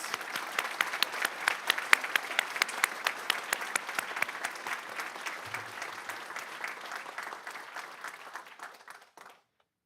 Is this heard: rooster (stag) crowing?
no